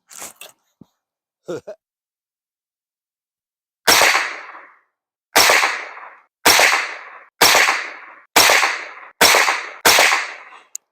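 Sport gun shots fired at a target in a shooting competition: seven sharp, loud reports spaced roughly a second apart after a few faint clicks and handling noises at the start, each with a short decaying tail.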